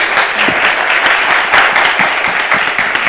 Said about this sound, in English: Please join me by giving them a huge round of applause.